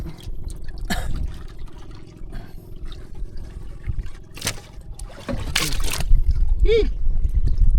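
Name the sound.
water dripping from a large caught squid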